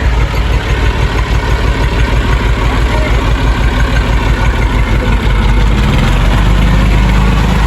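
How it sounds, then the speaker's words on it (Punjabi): A tractor engine runs loud and steady on a farm, a constant low rumble throughout with a regular throbbing beat, with no clear pull-away; it stays close and dominant. "ਟਰੈਕਟਰ ਜਾ ਰਿਹਾ"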